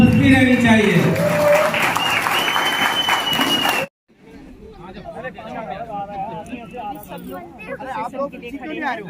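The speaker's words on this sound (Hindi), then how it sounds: "एक बार उधर के जोरदार तालियां" Loud, sustained applause from a standing audience at a motivational business seminar fills the first few seconds, then cuts off abruptly to quieter crowd chatter and murmuring.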